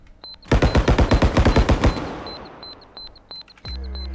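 A rapid fully automatic volley of about fourteen shots in the realistic shooter Bodycam, loud and close, then a decaying echo and faint beeps.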